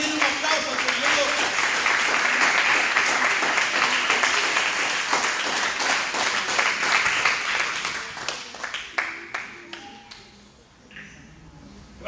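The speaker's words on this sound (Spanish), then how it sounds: "Den un aplauso al Señor." A church congregation breaks into sustained applause after a sermon, a dense wash of clapping that holds steady for several seconds before thinning into scattered claps and fading, with faint voices mixed in.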